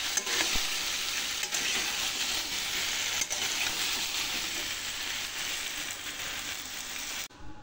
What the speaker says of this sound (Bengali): এখন কড়াইতে সামান্য তেল দিয়ে আলু আর গাটি কচুটা আমি ভেজে নেব।